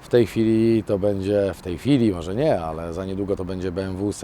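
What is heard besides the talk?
No everyday noises stand out.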